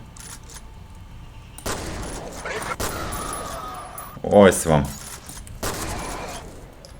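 Gunfire from a weapon in the first-person shooter F.E.A.R., sharp bursts of shots and impacts in a couple of clusters, with someone speaking between them over quiet game ambience.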